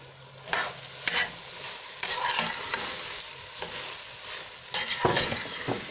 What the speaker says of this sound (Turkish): bu şekilde karıştırarak bulgurumuzu da tüm malzemelerle bütünleştirerek bir miktar kavuruyoruz